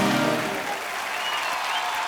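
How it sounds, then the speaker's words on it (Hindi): Loud, steady applause from a large TV studio audience, continuous clapping filling the space throughout. "जोरदार तालियां एक बार"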